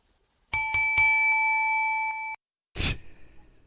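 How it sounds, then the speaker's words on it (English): A small hand bell struck three quick times, ringing out bright and sustained close by before being cut off, followed by a brief burst of a voice. "Oh, you want me to ring the bell? I got a bell for you."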